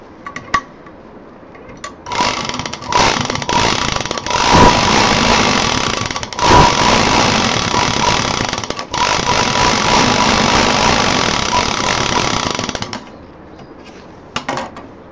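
An electric sewing machine runs a seam along a DIY stylish handbag in long continuous bursts, a steady whirring drone of about ten seconds with brief pauses and small clicks at the start and end.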